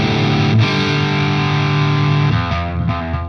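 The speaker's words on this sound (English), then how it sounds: "you can get quite fast distortion" A heavily distorted electric guitar through a Nobels ODR overdrive pedal sustains thick, fuzzy chords, loud and saturated, shifting to a new chord near the end.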